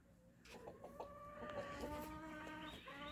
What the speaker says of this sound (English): So now this pen has turned into just our light Brahmas.